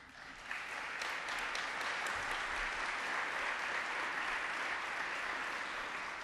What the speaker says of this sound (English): we would like Andy's family to stand up and get a round of applause